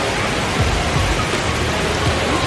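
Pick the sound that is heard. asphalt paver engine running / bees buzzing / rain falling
rain falling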